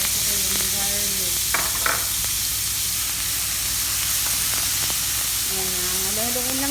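Chopped onion and garlic fry in a pan for Arabic rice with shrimp, giving a steady close sizzle with a couple of brief stirring scrapes, while faint tonal sounds drift in the background.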